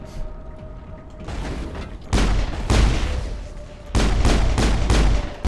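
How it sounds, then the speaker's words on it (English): Gunfire in the video game Mass Effect, rapid bursts of weapon fire in two loud sustained stretches separated by a quieter pause, with scattered shots and mechanical clatter between them. "Ashley, I'm trying to shoot through your legs."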